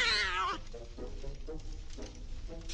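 A wild cat in the horror game Scary Stranger 3D lets out a loud, drawn-out caterwauling meow up close, followed by a few softer, shorter mews.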